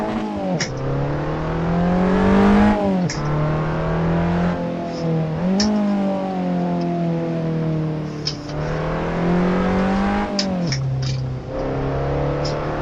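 A race car engine in the racing game Assetto Corsa revs again and again, its pitch climbing and dropping in repeated surges, loud and close with no voices.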